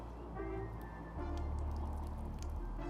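Water is poured over a Jordan sneaker treated with a water-repellent coating. A soft, close splashing and trickling runs on as the liquid runs off the shoe, fairly quiet and alone.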